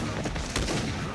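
Rapid gunfire rattles in the Bladeslinger video game, a quick burst of several shots blended into a dense, noisy wash, moderately loud and brief.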